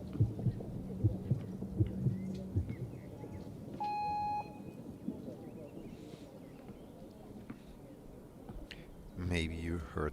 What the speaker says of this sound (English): Maybe you heard the heartbeat in the back.